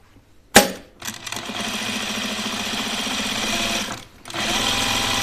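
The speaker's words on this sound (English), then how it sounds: "All right, so let's stitch this one down." A sewing machine stitching down a pajama pants pocket: a sharp start, then a steady fast mechanical whir that briefly dips and resumes, loud and close, with no speech.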